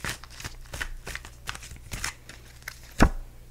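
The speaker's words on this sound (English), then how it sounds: "Actually, I'm going to shuffle more." Tarot cards being shuffled in quick, papery riffles and slaps, with a sharper card knock near the end, close and fairly quiet, no voices.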